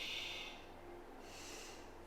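Slow, deep breathing, a soft airy inhale followed by a long exhale, quiet and close with no talking.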